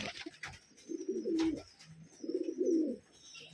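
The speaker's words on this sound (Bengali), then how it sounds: "অনেক সুন্দর একটা কবিতর পুরা খেপে আছে পাগল" A Rajshahi Giribaz pigeon coos nearby in two distinct rolling bursts separated by a short pause, with faint background chatter and clatter.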